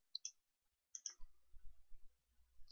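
Two quick pairs of crisp mouse clicks, close and clean, as a browse button is pressed, followed by faint low rumble.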